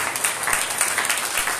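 A church congregation applauds during a Sunday sermon, a brief steady wash of many hands clapping at a moderate distance.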